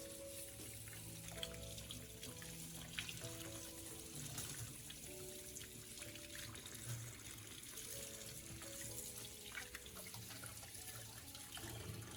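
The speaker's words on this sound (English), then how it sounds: "Rinse them well under running water and let them drain completely." Tap water runs steadily into a sink as garlic cloves are rinsed, a continuous soft splashing trickle with faint shifts in flow, quiet and with no voices.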